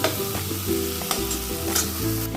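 Spice paste sizzles and fries in a pan for dhoka dalna, a loud, close, continuous crackle broken by a few stirring scrapes, with no voices.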